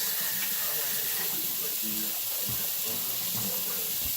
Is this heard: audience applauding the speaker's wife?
no